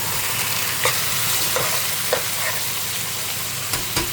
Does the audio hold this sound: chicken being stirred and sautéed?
yes